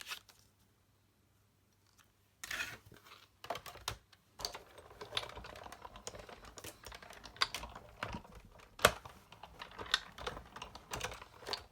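A Big Shot die cutting machine presses a detailed die through watercolor paper, giving a run of irregular close clicks, crunches and ratcheting taps after a quiet start.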